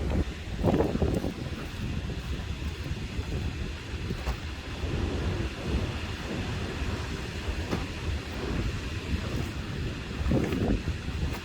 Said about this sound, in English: It's a bit windy here today, actually very windy.